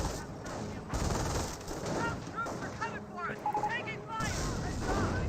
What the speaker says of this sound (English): we do have a mortar emplacement, now firing away against these Schimwagens